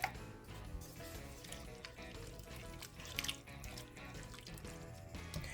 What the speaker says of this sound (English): I am going to add about 1 can full of water, so all the flavors can meld and go into the chicken